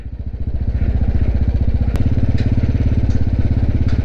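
A heavy motorbike rides slowly across a swaying suspension footbridge in Nepal, its engine chugging in a steady, close, loud rhythm with a brief metallic click partway through.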